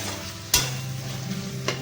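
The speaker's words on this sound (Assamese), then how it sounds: "এইখিনি মই এতিয়া ভালকৈ ভাজি ল'ম" Chopped tomatoes with turmeric and salt fry in a pan, sizzling steadily while a utensil scrapes through them in two sharp stirring strokes, close and clear.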